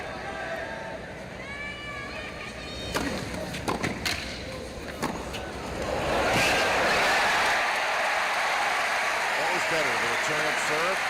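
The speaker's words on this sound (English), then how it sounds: "The crowd going crazy after the point." A large stadium crowd at a professional tennis match erupts into loud cheering and applause after a point, swelling into a sustained roar after a few sharp claps and commentary talk.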